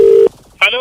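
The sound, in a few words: telephone dialing for a prank call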